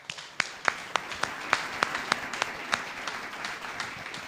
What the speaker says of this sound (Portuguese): vamos dar uma grande palmas para o nosso Espírito Santo de Deus